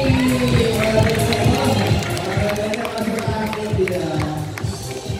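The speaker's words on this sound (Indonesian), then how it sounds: "Kita berikan lagi tepuk tangan lagi dong buat Wati" Crowd applause for Wati, a performing bear at a comic show with guitar and hula hoop, steady dense clapping and cheering filling the whole stretch, loud and close, with a voice faintly underneath.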